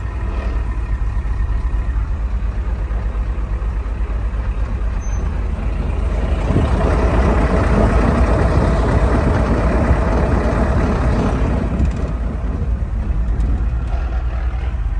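Engine of a 1973 Ford F250 pickup running under load, a steady loud rumbling drone that swells midway as the rear wheels spin, continuous throughout.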